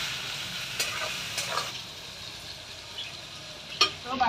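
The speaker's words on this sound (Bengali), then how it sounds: "তো আমি এখন এই কটা উপকরণ ভালো করে ভেজে নেব।" Green chillies and salt frying in a pan while cooking a pabda fish mustard curry, with a continuous close hiss of oil and a few soft stirring scrapes, steady and unaccompanied by speech.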